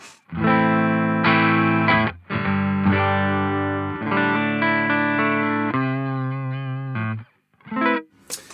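An electric guitar plays sustained chords with a clean, bright tone, ringing steadily for several seconds before cutting off.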